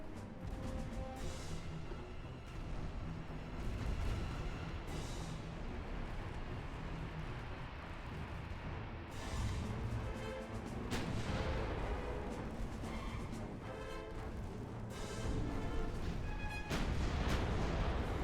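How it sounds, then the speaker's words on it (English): A warship's magazine detonates in the naval combat game Ultimate Admiral: Dreadnoughts, with dense, continuous rumbling blasts and booming bursts stacked one after another at loud, steady volume. "Her magazine finally detonated."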